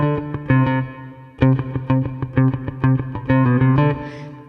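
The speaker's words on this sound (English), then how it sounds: "you're looking for a reverb with a pre-delay on it" A distorted, effects-laden soul-funk bass guitar line of plucked notes in a steady rhythm, through a reverb with about 100 milliseconds of pre-delay, the reverberant tail smearing after each note.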